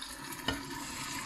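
Pre-cooked canned black beans are tipped into a hot pan, a brief soft thud and splash over a low steady sizzle, close and quiet.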